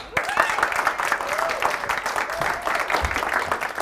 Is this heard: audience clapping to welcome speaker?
yes